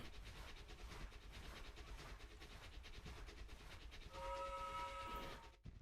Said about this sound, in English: 5th Corps is on that train chasing Jackson down